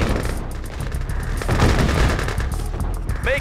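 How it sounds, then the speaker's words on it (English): Torpedo launches in the strategy game Red Alert 2, a loud, dense run of booming, crackling blasts lasting several seconds with no speech, ending with a short rising electronic tone. "Torpedoes away."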